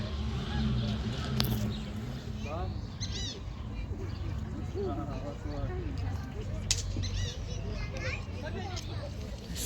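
Swans and ducks call and honk over a steady outdoor hum at a yacht club on the Dnipro, with chirps and squawks scattered throughout, at moderate distance.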